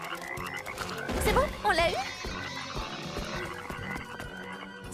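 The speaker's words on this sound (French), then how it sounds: "Grenouille!" A cartoon frog gives a couple of loud, warbling croaks up close in the middle of the scene, with animated characters talking before and after.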